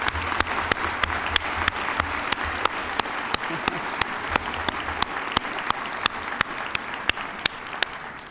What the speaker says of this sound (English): I hope you'll all join me in a round of applause to welcome her